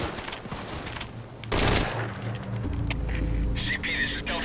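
Gunfire in the video game Metal Gear Solid 5 Ground Zeroes: a sudden sharp burst of automatic fire, followed by game sounds and a voice speaking over the scene.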